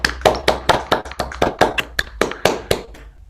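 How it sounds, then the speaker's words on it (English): A small lecture-hall audience claps for a speaker after a plenary talk at a Poisson geometry workshop: a thin, sparse run of distinct hand claps, fairly close, with each clap standing out alone rather than merging into a dense roar. "Let's all give Ivan a nice round of applause."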